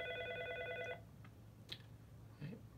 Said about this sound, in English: let's just say a call comes in,